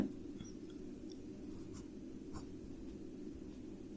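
A pen scratches steadily across paper while a percentage and interest math problem is worked out, a soft continuous writing sound heard close but quietly.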